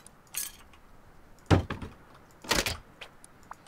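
Placing a double door in the Rust video game produces a few sharp knocks and clunks, two louder thuds about a second apart with lighter clicks around them, with no speech.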